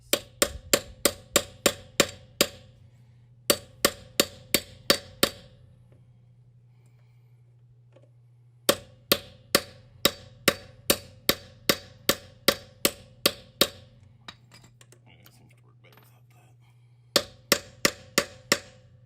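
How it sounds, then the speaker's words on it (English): A hammer repeatedly strikes a socket extension driven onto a locking wheel nut, sharp metallic blows in fast bursts of six to eight evenly spaced hits, separated by pauses, over a steady low hum. "you could always stick the extension in there and hammer on it."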